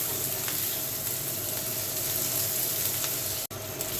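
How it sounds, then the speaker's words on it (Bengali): Onion frying in oil for egg bharta, a quiet continuous sizzle with a faint crackle, steady throughout apart from a brief tap near the end. "ডিম ভর্তার জন্য এখানে আমি পেঁয়াজটা ভেজে নিচ্ছি"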